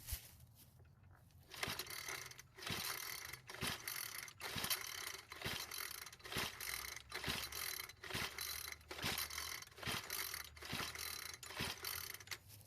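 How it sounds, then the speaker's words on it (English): Repeated pull-starts on a hard-to-start edger: a dozen or so evenly spaced yanks of the recoil starter, each a sharp ratcheting rattle over a steady mechanical hum, with no engine catching. "let's put it on the ground and try starting it and see if it's a whole lot easier to start"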